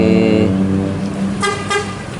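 A large vehicle rumbles close by with a loud horn tone at the start, then engine noise and air-brake hisses as it pulls in.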